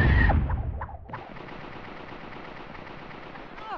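In the game Hogs of War, a loud burst of gunfire opens, then cuts off, followed by a faint, steady rattling texture and a small sound near the end.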